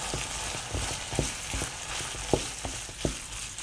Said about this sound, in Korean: 수분이 없어질 때까지 또 완전하게 자글자글 볶아주세요